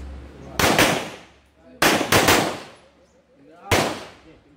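Gunfire during an actual shooting exercise: three loud, close bursts of rapid shots, spaced about a second or more apart, with reverberant tails fading between them.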